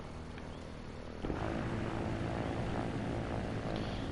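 Helicopter rotor on a player-built aircraft with wing blocks on the blade tips in the video game Trailmakers, a steady droning whir that thickens and grows louder partway through and holds constant without any talk.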